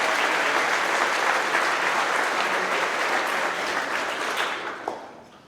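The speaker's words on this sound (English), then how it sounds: "Let's give these guys a round of applause." An audience claps loudly at a trucking company's monthly celebration and awards ceremony, a sustained burst of applause that fades out toward the end.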